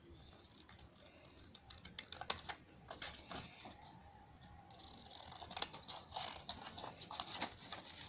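Scissors cutting out a paper sandal pattern for shoemaking, faint crisp snipping and paper rustle in irregular bursts, close and quiet with no talk.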